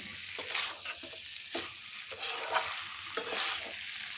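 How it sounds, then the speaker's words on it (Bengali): Utensil scraping and stirring fried cauliflower with winter vegetables in a hot pan, with repeated sharp strokes over a steady background sizzle, close by. "কপিটা খুব ভালোভাবে মিশিয়ে নেব, আর একটু 2 মিনিট নেড়ে নেব"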